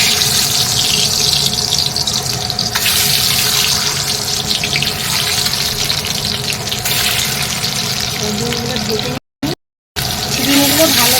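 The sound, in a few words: eggs frying in a pan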